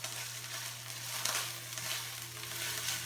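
Chili paste sautés in a pan, giving a soft, steady sizzle with a low background hum and a few faint stirring scrapes, close but fairly quiet.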